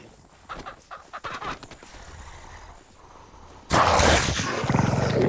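A chicken in the video game Pacify gives scattered clucks and squawks, then a sudden loud, harsh burst of noisy squawking that continues to the end, close and abrupt.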